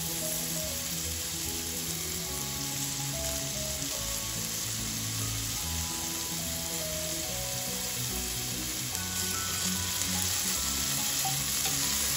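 Cubed supermarket prosciutto fries in a pan, giving a continuous, even sizzle that stays close and loud for the whole stretch, with no talking.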